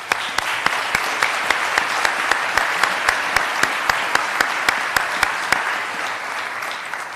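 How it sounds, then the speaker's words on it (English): A convocation audience applauding for the graduating class of 2026, dense steady clapping throughout with a sharp, regular clap standing out close by over the crowd. "Can we all please give them a big round of applause?"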